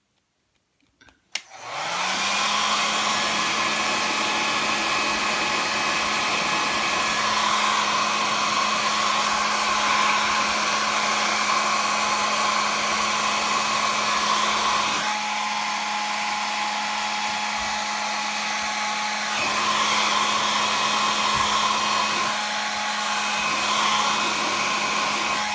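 A hair dryer runs steadily and loudly for about 24 seconds, drying matte medium and tissue paper on a collage and acrylic flower painting, its motor hum constant with slight shifts in airflow.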